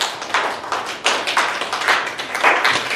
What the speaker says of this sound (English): If I clap like this, that's sloppy sounding